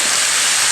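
Lime juice hits a hot pot of sausages and softened peppers, a loud, continuous bright hiss that fills the whole moment without pause.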